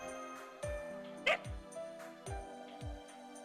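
Dog in Fate Grand Order, Cavall II, gives a few short barks and yips spaced across a few seconds over a soft game music bed, with one sharper louder yelp in the middle.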